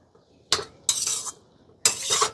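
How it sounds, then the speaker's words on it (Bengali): A spoon stirs a potato and turmeric kachori filling in a bowl, giving three short scraping, clinking strokes up close with pauses between them. "এবারে সব কিছু একটু ভালো করে মিশিয়ে নেব।"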